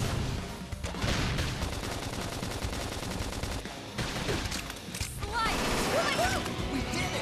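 Flame grenade attack in the game Xenoblade Chronicles X: loud continuous combat noise with rapid repeated blasts and crashing impacts, layered under music, effects and brief voice callouts.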